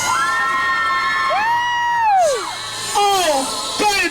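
A crowd at an event honoring EMS, police and the Rocky Ridge Fire Department screams and cheers loudly in unison, with high children's shrieks and whoops rising and falling over several seconds.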